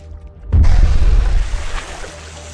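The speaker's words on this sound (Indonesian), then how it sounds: "mereka melempar granat ke kolam renang itu" Grenade exploding in a swimming pool during a film's alien-invasion battle scene: a sudden deep boom after brief quiet, followed by a rumbling, sloshing wash of water that slowly fades.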